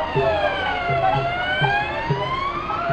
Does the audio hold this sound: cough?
no